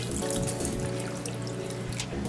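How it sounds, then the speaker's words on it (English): Warm water poured into a bowl of dry active yeast for sweet bread dough, a steady trickling splash lasting a couple of seconds, close and alone. "I'm going to put half a cup of water"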